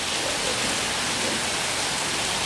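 Heavy night rain pours steadily in a dense, continuous hiss that stays even and loud throughout, with no voices.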